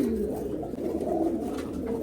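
Black-necked male pigeons coo close by in low, rolling, repeated calls, several overlapping throaty coos running continuously with no speech.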